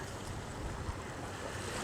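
Steady ocean surf washing onto a Texas beach near a parked motorhome, a continuous moderate roar with wind noise and no voices.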